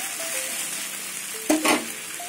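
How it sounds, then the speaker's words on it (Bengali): Taro stolons fry in a pan over a lowered gas flame, giving a continuous soft sizzle with a couple of sharp utensil clanks near the middle. "এবার গ্যাস কমিয়ে কমিয়ে কচুরলতিটা ভালো করে ভেজে নেব।"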